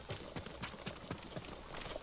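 A horse gallops in the Ghost of Tsushima video game, a quick, even run of hoofbeats thudding along for a couple of seconds with no talking.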